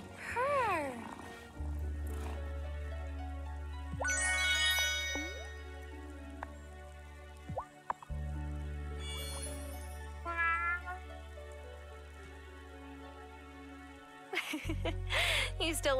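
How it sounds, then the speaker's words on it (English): A pet cat purrs in the farming game Wylde Flowers: a low, steady rumbling drone, broken by short meow-like chirps and bright musical game tones. "Listen to that purr."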